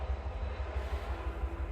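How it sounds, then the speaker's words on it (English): A train rumbles steadily close by, a continuous heavy low-frequency roar with a faint rail hum that holds at a constant level and carries no voices. "Stupid train."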